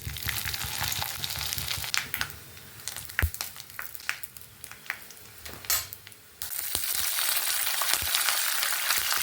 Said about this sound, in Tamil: இப்போ நம்ம மிளகாய் கடையிலுக்கு வடகம் சேர்த்து தாளிச்சா நல்லா இருக்குங்க